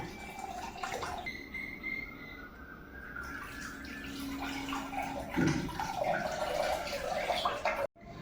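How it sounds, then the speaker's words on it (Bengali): Coconut water draining from a small hole cut in a green coconut, a steady trickling, splashing pour running continuously at close range with faint background noise. "এবার ডাবের জলটা বার করে নেব।"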